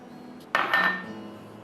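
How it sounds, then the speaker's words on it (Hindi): A utensil clinks against a bowl while yogurt is mixed with almond powder, a single close scraping clatter that fades quickly. "अब हम इसमें डालेंगे दही 2 कप, मिक्स करेंगे उसको आधा कप बादाम के पाउडर के साथ"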